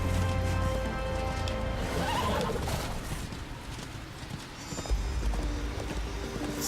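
A horse in the Darksiders II game clip-clops at a rhythmic trot, then neighs loudly, the hoofbeats continuing close and clear with some clattering alongside.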